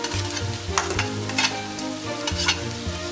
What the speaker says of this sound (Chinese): 把切好的肉丁给它下里边，把肉里边的水汽都炒出去啊